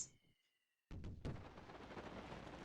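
Fireworks in the video game Dragon Quest X: a soft whistling launch fades into near silence, then a sudden loud burst and a second crackling bang give way to a lingering, hissing fizz.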